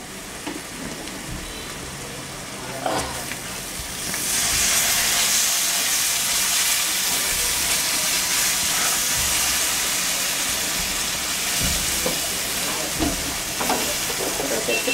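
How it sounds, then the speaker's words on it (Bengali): Onion and garlic fry in hot oil as packaged meat spices go into the pan, a continuous crackling sizzle that swells louder partway through and holds steady, with no talking. "পেঁয়াজ রসুনটা ভালো হবে তেলের মধ্যে ভাজা হয়ে গেছে এখন আমি মশলাগুলো দিয়ে দিচ্ছি"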